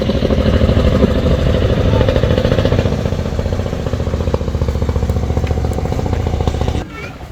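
A trawler boat's diesel engine idles at a river ghat on a Meghna island in Bangladesh, a loud steady chugging rumble close by that drops off abruptly near the end, with voices faintly mixed in.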